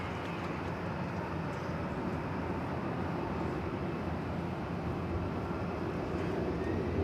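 A Boeing 787-9 Dreamliner passenger jet at DFW airport, bound for Sydney, gives off a steady, broad, distant engine roar that holds evenly throughout.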